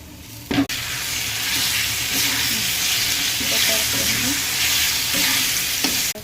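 Onion, chili, garlic and eggplant fry in a pan for eggplant bharit, hissing in a loud, steady sizzle up close, with a sharp clank near the start and again near the end as the pan is stirred.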